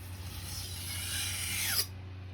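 A knife blade drawn in one long stroke across a sharpening stone, rising to a scraping rasp that ends abruptly, close and alone over a low steady hum.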